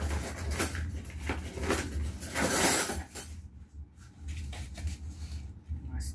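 A knife saws through a steak, egg and cheese bagel, giving rough scraping and crunching strokes, busiest and loudest midway before easing into lighter, scattered cutting sounds.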